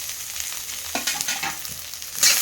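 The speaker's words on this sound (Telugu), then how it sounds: "వేసేసి ఫ్రై నూనెలో మంచిగా ఫ్రై చేసుకుందాం" Corn with butter and cheese frying in a little oil gives a close, steady sizzle, broken by a few stirring scrapes and a louder hiss near the end, with no talking.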